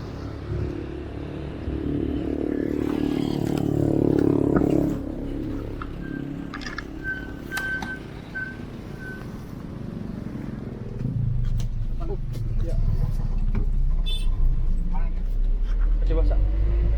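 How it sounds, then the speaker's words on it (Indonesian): Traffic rumble and engine noise from an older economy-class Sinar Tapanuli bus without air conditioning, a steady near roadside wash that swells and fades, heard under ongoing talk. "Ada bus Sinar Tapanuli."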